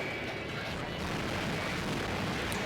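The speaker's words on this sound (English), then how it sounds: "those missiles are really hard to deal with. They split off into 4, and you gotta block all of them" Missiles burst in Guilty Gear XX Accent Core Plus R, a fighting game played at a tournament, giving a dense, continuous wash of explosive booms and crackle with no pauses.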